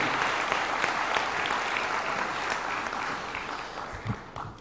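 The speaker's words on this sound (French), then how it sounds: "Merci beaucoup, on peut encore l'applaudir." Audience applause at a French New Year's greetings ceremony in Béthune, a full steady round of clapping from a large crowd that eases slightly toward the end, with a brief low thump near the close.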